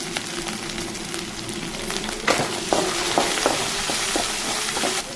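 Ginger, garlic and turmeric sautéing in hot oil for a chicken leg pepper gravy: a steady, close sizzle with sharper clatters of stirring scattered through the second half.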